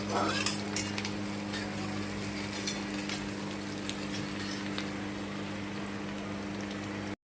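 Onions frying in oil with Kashmiri chili powder added, a soft continuous sizzle with a steady low hum and a few faint clicks of stirring utensils.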